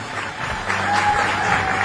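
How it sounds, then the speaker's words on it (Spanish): Audience applause for the teachers at a school graduation ceremony, a steady wash of clapping from a large crowd that swells slightly midway and continues without pause. "Un fuerte aplauso para todos los docentes."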